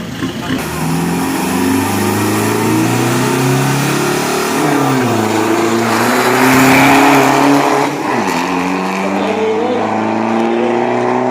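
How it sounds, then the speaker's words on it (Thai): A big-turbo Ford pickup with a 2.2 engine accelerates hard on a 402 m drag strip, its loud engine climbing through rising rev sweeps with a brief shift dip, continuous and close under crowd and announcer talk. "รถบ้านครับ เทอร์โบใหญ่ครับ ของฟอร์ดครับ"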